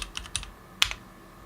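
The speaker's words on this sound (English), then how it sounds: "pressing Windows key and then typing in this" A few quick keystrokes on a computer keyboard, pressed while opening the Windows Run box: a short burst of clicks, a pause, then another sharp tap and a soft follow-up, close and fairly quiet.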